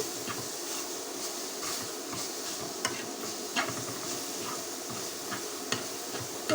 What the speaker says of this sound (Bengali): এটা ভালো মতন আমি পাক দিয়ে নিচ্ছি একটু ভালো মতো নেড়ে চেড়ে নিচ্ছি